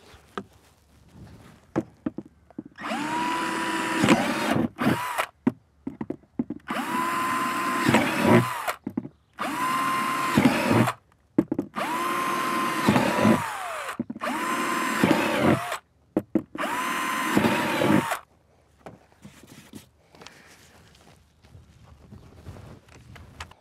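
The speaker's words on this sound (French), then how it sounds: "Je vais donc percer ce pot." A power drill bores drainage holes through a plant pot for a dwarf fruit tree, with several loud, close bursts of whirring separated by short pauses.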